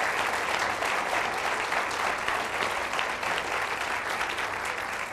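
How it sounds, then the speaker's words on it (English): Sustained applause from an audience at a school art awards ceremony honoring high school students, even and fairly loud for the whole stretch without any talking. "A big round of applause."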